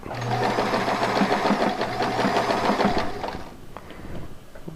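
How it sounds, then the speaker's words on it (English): Close, loud sewing machine stitching right over the edge of a fabric toe cover, running steadily for about three seconds before stopping, followed by quiet handling sounds. "what I'm doing is sealing down the edge, stitching right over the edge"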